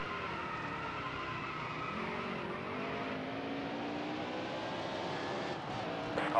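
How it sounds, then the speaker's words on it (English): A race car at Sonoma lights up its tires under throttle, a continuous loud engine drone with sustained tire squeal running steadily throughout, close and unbroken. "I can't touch the gas pedal. It just lights the tires off every single time"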